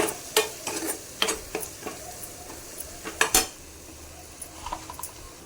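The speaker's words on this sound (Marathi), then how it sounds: "हे बघा मस्त फ्राय झालंय मसाला" A spoon clatters and scrapes against a pan while spiced masala fries with a soft sizzle. The knocks come in irregular bursts, close and clear, with no talk.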